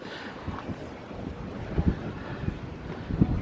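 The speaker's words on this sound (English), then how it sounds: "It's a little bit windy up here, so I do apologize for the background noise" Wind buffets the open upper deck of the MSC Seashore cruise ship, a low, gusty rush with irregular thumps where gusts hit the microphone. No one speaks.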